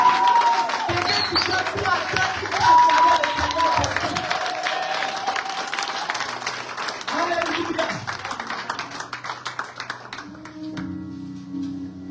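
A church congregation applauds and cheers for the Lord, steady clapping from a crowd filling the space with a few voices rising above it, fading toward the end while speech continues over it.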